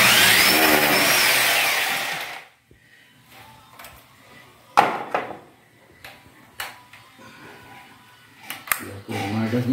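A power drill drives screws into a sliding door during an adjustment, with a loud, close whirring burst for the first couple of seconds, then quieter scattered clicks and knocks.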